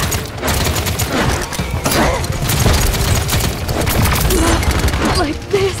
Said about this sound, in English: Enemies are firing on me.